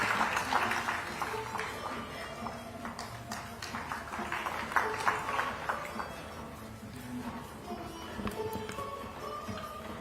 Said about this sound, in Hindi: पुनः एक बार जोरदार तालियों के साथ स्वागत